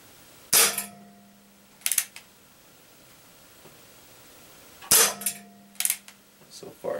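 Two loud, sharp revolver shots from a Colt SAA Peacemaker replica, fired several seconds apart outdoors, each with a quick decaying tail, followed by a few fainter clicks and knocks.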